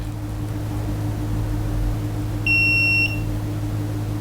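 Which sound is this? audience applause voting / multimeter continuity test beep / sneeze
multimeter continuity test beep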